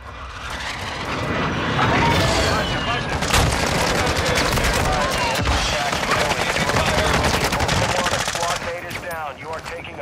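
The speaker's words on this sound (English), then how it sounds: "You are taking effective fire." Sustained automatic gunfire in the Call of Duty DMZ video game, loud and dense rapid bursts rattling almost continuously for several seconds before easing near the end, with radio-style game voices mixed underneath.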